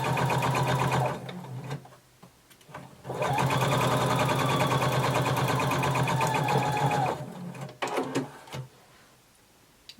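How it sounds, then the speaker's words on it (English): A sewing machine stitches a shoulder seam at 5/8 inch allowance, running in loud, close bursts of steady whirring with brief pauses between runs. "Sew across your shoulder, again using 5/8 of an inch seam allowance."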